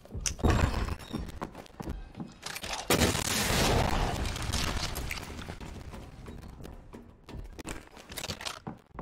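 In Resident Evil 2 Remake, a rocket launcher fires and the blast goes off, giving a loud burst and a rumbling swell that fades, with scattered thuds and impacts around it.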